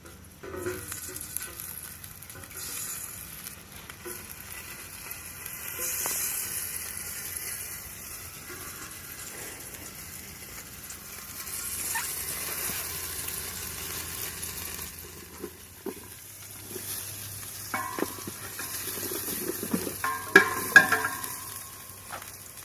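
Spices sizzling and being stirred in a little cooking oil in a pan for Aceh chicken biryani cooked outdoors, a soft continuous fry with occasional clinks and scrapes of the utensil.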